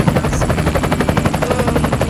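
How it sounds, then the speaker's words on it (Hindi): A toy helicopter whirs close by with a rapid, steady chopping rhythm that pulses evenly throughout, with no voices. "चलो यहाँ पर है हमारे पास हेलीकॉप्टर"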